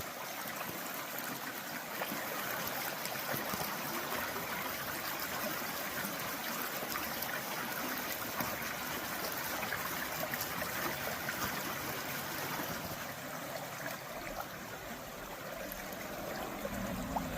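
A river at the North Fork flows steadily beneath overhanging alders on a drizzly morning, producing a constant soft rushing wash that stays even and moderately distant throughout, with no voices.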